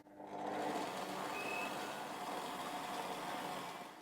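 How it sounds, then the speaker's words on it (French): A stand mixer kneads brioche dough of flour, sugar, vanilla sugar and salt at low speed, giving a steady, continuous motor whir with a faint high whine, close and alone. "on commence à pétrir à petite vitesse"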